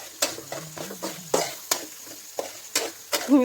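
Onions frying in a pan while being stirred: a soft sizzle under repeated scraping and clinking strokes of a spoon against the pan, close and steady.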